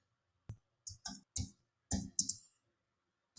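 A computer mouse or keys give a handful of sharp, close, quiet clicks in an irregular sequence, separated by silence, with a final click at the end.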